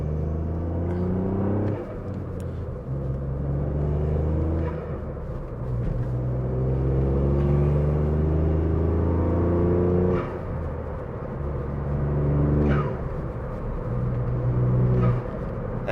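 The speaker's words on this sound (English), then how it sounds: "Them turbo noises still don't get old." A tuned Mk8.5 Ford Fiesta ST with about 250 bhp heard from inside while driving: steady engine drone rising and falling through gear changes and revs, with faint turbo whooshes and induction noise over the rumble.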